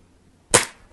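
A single sharp, close crack from a Rainson Edge X .22 caliber PCP air rifle firing during a power test, with a quick decay and a faint click just after, in otherwise quiet surroundings.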